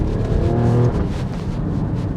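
A 2025 Alfa Romeo Stelvio Quadrifoglio engine revs hard and holds near its limiter, a loud, steady, buzzing drone with a brief rise in pitch partway through, heard from inside the car.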